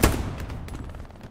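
A machine gun firing in Hell Let Loose, a World War II shooter: one loud close blast, then a fast rattle of rounds fading over about a second.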